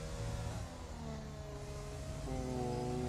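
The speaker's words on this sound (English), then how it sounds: "we got a revving glitch with Crichton" A Formula 1 car engine in the racing game F1 2020 at the Japanese Grand Prix, caught in a revving glitch: a sustained, steady high engine whine with tones that shift in pitch, loud and continuous.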